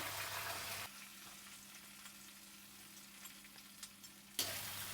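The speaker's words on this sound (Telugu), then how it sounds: "బాగా దోరగా ఏగేదాకా వేపుకోవాలి" Onions, curry leaves, cumin and green chillies fry in a pan, a soft steady sizzle with faint crackles and no talk.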